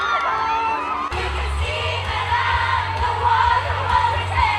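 A crowd of fans cheers and screams excitedly at a live event where a performer serenades them, loud sustained shouting and whoops over a thumping musical backing, no clear talk.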